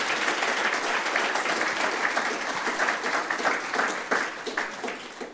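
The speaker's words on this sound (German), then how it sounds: "Ja, ich finde, da kann man auch mal klatschen." Sustained audience applause in a cinema foyer during an on-stage talk, dense steady clapping from a sizeable crowd for several seconds, fairly close and continuous with no talk over it.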